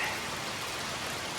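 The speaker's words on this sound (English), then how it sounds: "It's supposed to rain like this all the rest of the night" Steady rain falls outside a cow barn, a constant even hiss of drops on surfaces with no breaks, moderately loud and close.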